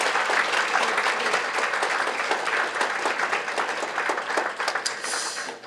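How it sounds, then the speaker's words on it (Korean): Audience at a rare-disease awareness day ceremony giving sustained applause, dense clapping filling the room continuously for several seconds. "우리 지수 씨가 우리 또 건강하게 마라톤을 또 완주할 수 있도록 다시 한번 격려 응원의 박수 한번"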